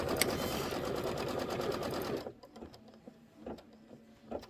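Embroidery sewing machine stitching quilting stitches on a Kimberbell project: a loud, fast mechanical chatter of needle strokes up close that halts abruptly after about two seconds, leaving faint clicks and handling noises.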